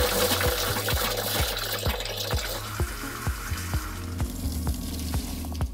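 Bleach solution running from an RV faucet in a TAB 320 camper, driven by the water pump: flowing water with a steady rhythmic pump clatter, the pulses spaced about half a second apart.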